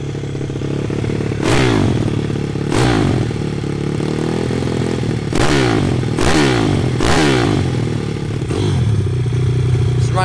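A 2014 SSR 160TX pit bike engine runs close up with a harsh idle, revved in several short, loud bursts that rise and fall, with some clatter between them.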